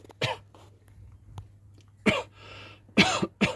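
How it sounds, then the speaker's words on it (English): A person coughs in a few sharp, harsh bursts after breathing in stone chip underbody paint, with quiet gaps between the fits. "I was coughing fit on camera"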